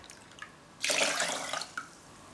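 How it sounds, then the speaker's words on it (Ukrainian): Water poured from above onto washed rice in a pot, a short splashing gush after a faint trickle, fairly close and alone. "Тепер я заливаю його водою."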